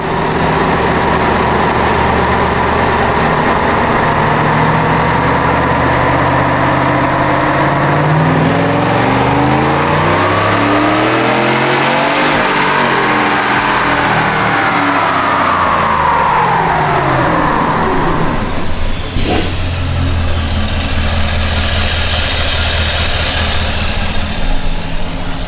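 Supercharged Chevrolet Silverado truck engine on a dyno pull, loud and continuous, climbing steadily in pitch to a peak and falling back, then a sharp shift in tone near the end as the revs drop.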